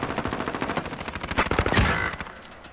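Rapid automatic gunfire in a shooting video game, a fast burst of sharp repeated shots lasting a couple of seconds, fairly close and moderately loud.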